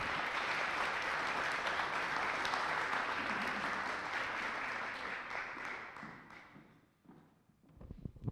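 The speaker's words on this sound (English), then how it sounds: "So we want to welcome them with a hand clap." Audience applause at an indoor hurricane expo, a dense steady clatter of many hands that tapers off and fades over the last few seconds into near quiet.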